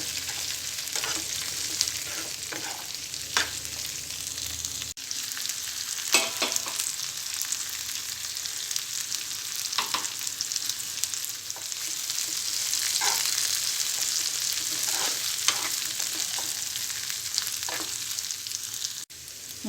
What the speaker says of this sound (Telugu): ములక్కాడ ముక్కల్ని సిమ్లో 5 నిమిషాలు మగ్గనివ్వాలి.